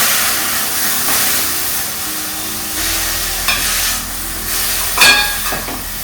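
Bottle gourd pieces frying in ghee in a pan: a steady, moderate sizzle with occasional stirring scrapes and clicks, a low hum underneath, no voices.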